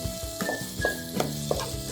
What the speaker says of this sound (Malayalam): ഈ അരപ്പ് നന്നായിട്ടൊന്ന് വഴറ്റിയെടുക്കണം.